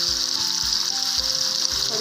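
Paneer cubes frying briefly in a hot pan for a dhaba-style paneer masala, with a bright, continuous sizzle and soft rhythmic stirring thumps underneath.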